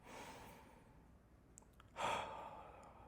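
One long, slow exhale, soft and close, followed after a pause by a fuller breath that swells suddenly and then fades gently.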